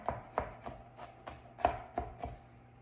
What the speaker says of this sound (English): And this was like four pieces of garlic. And just chop it up as fine as you can.